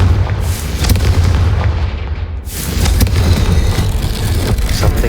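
A Confringo fire-spell explosion in Hogwarts Legacy: a loud, dense rumbling blast with roaring low end, a brief dip, then a renewed sustained roar of fiery debris, with no talking.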